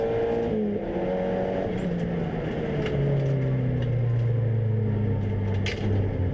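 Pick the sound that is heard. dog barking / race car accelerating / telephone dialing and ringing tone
race car accelerating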